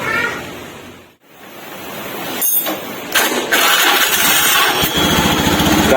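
A carbureted Honda Scoopy scooter with a worn pulley runs close by in a loud, steady engine roar, briefly dipping then rising as the throttle is revved and held high.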